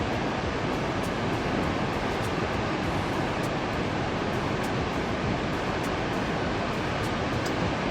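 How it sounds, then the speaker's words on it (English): Thunderbird Falls roars continuously, broadband rushing water filling the scene at a constant, loud level without any talking. "I like the sound of rushing water."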